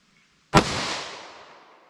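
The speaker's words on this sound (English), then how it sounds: "Let's start up with our 357 Sig, 147 grain. See what kind of velocity and accuracy we get." A single loud gunshot from a .357 Sig pistol firing 147-grain rounds comes after a moment of quiet, a sharp crack followed by a long, fading echo.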